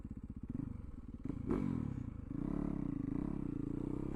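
A Yamaha YZ450FX supermoto's single-cylinder engine fires up after sitting unused for two years, chugging unevenly at close range, then blipping and settling into a steady, rough idle.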